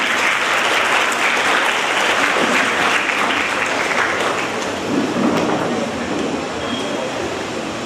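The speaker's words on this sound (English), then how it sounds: "Big round of applause to you all." Sustained applause from a large audience at a school felicitation ceremony for a graduating pre-university batch, a dense even roar of clapping that fills the whole stretch and eases slightly near the end.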